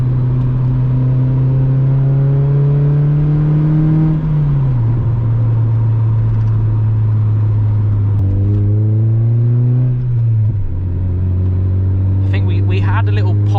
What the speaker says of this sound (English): Had a little pop burble back there.